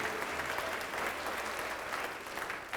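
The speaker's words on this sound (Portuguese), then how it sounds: "Vamos aplaudir mais ao nome de Jesus." Church congregation applauding steadily, a dense wash of clapping hands sustained throughout with no voices.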